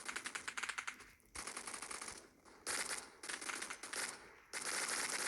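Rapid bursts of gunfire from a shooting video game rattle in quick, clattering strings, separated by short pauses, quiet and crisp with no talking.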